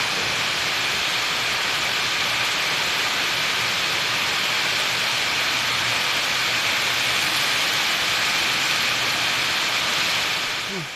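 Steady, dense rain hiss fills the whole stretch, loud and unbroken like a heavy downpour close by.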